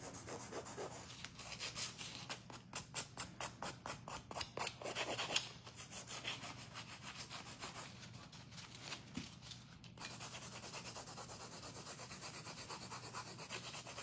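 Fingernails are filed with a nail file in quick, rhythmic rasping strokes, close and faint, bursts of scratchy rubbing repeating over several seconds, then steadier low-level scraping.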